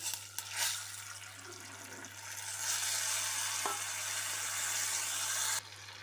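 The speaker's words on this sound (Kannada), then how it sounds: "ಈಗ ಇದಕ್ಕೆ ಹುಣಸೆ ನೀರು ಹಾಕ್ತಾ ಇದ್ದೀನಿ" Tamarind water is poured into a hot puliyogare gojju tempering of mustard seeds and curry leaves, bursting into a loud, steady sizzling hiss that holds for several seconds before cutting off abruptly.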